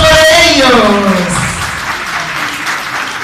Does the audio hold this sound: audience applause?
yes